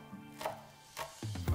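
A knife chops green onions on a cutting board in a few distinct, crisp strikes, close and clear, the last pair in quick succession, with no talking.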